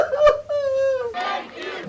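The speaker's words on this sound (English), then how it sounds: "Cheers erupted in Hostage Square in Tel Aviv as crowds gathered to watch coverage of the hostages' return" A crowd in Hostage Square, Tel Aviv, cheers and cries out in a swelling burst, with one sustained high wailing shout cutting through before the broader roar of many voices.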